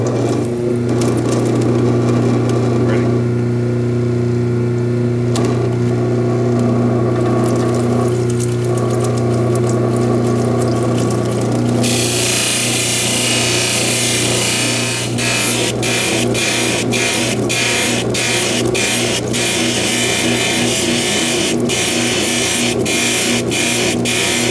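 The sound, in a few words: lapidary grinding wheel shaping a stone cabochon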